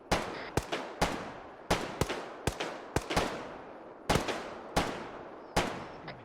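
Gunfire during a security firearms training drill, a series of about fifteen sharp shots in uneven bursts with short echoing tails, fairly close, heard without talk.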